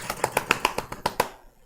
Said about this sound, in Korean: 우리 건강을 생각하면서 박수 칠 때 있죠.